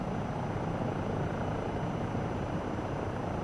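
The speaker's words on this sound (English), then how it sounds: "I think it's a good helicopter." Rotor and turbine drone of a Eurocopter EC135 helicopter in Microsoft Flight Simulator 2024, a steady, dense, even whir filling the whole stretch with no voices.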